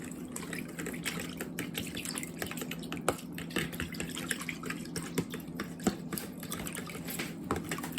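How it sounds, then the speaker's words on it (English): A fork whisks a teriyaki beef jerky marinade in a bowl, producing a continuous wet, sloshing swish dotted with light, rapid clicks of metal on the bowl. The sound stays close and steady throughout, with no talking. "I'll get the fork here, and we'll just kind of whisk it. Whisk all the ingredients in really good."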